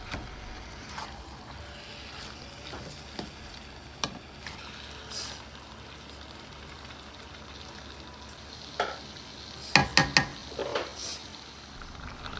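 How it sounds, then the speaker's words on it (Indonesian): Beef frying and being stirred with rendang spice paste in a pan, a soft continuous sizzle broken by scattered scraping clicks and a cluster of sharper knocks toward the end. "Terus ini bumbunya juga diaduk dulu sampai tercampur rata"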